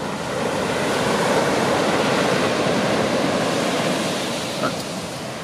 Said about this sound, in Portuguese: É passar o tempo na praia